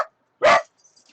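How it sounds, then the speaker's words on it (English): A dog named JJ lets out a single sharp bark, close and loud, after a faint brief sound, with near-silence around it. "there goes JJ barking again"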